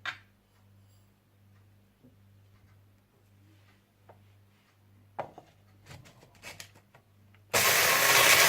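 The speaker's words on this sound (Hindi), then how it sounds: "सबसे पहले आप कॉफी ग्राइंडर में साबुत धनिया, जीरा, मेथी दाना, स्ट्रिक एसिड और काली मिर्ची डालकर बारीक पीस लीजिए" A coffee grinder with whole coriander, cumin, fenugreek seeds, citric acid and black pepper roars on suddenly and loudly near the end, after light tapping and handling sounds in a quiet kitchen.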